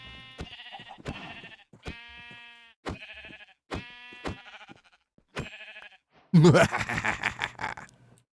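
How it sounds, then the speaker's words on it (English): Minecraft sheep bleating in a video game, a series of about eight short, nasal bleats spaced roughly a second apart, close and clear against silence, followed by a louder burst of mixed noise at the end. "Hello, sheep."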